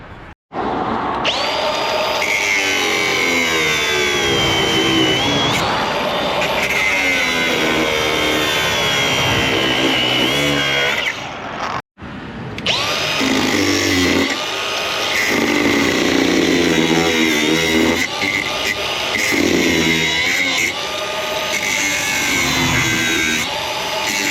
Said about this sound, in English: I'm just going to get my grinder, where that is, and then just cut the brackets off